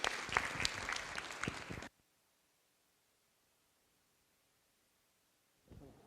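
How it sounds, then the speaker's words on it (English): At a city council meeting in Fresno, a burst of audience applause rings out for about two seconds, then cuts off abruptly into near silence before a faint rustle returns at the end. "Give them a round of applause for their work."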